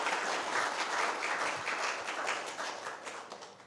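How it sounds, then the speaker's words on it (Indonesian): Applause at an academic ceremony for a law professor, a fairly quiet, dense patter of many hands clapping steadily from a distance, slowly thinning toward the end. "Mari kita beri tepuk tangan yang meriah sekali lagi."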